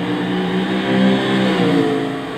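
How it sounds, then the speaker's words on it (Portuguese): A Spyker C8 Laviolette with its 4.2-litre Audi V8 revs loudly in Gran Turismo 6, a steady, throaty engine drone that swells and rises in pitch as it accelerates, with no other sound. "O Audi V8 tem ronca forte, hein?"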